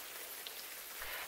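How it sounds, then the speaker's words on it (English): Soft, steady rain patters on surfaces in the Japanese visual novel game Watajuu, a faint, continuous drizzle with scattered droplet ticks and no voices. "let's return before the rain becomes stronger"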